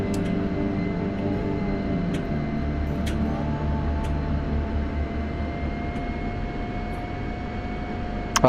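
A steady jet aircraft engine roars on a runway during takeoff in a flight simulator game, a constant drone with faint clicks and no speech.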